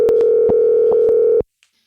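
A steady telephone dial tone hums loud and unbroken while a call to a real estate client is being placed, cutting off abruptly after about a second and a half into silence.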